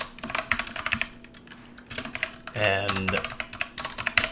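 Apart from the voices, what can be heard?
typing on a computer keyboard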